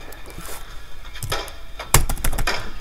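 Typing on a keyboard, a handful of separate clacky keystrokes close by in an irregular rhythm, with one sharper, louder key hit near the middle.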